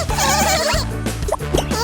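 Cartoon sheep bleating in an animated children's scene, a few bright, wavering bleats close up over steady background music and effects.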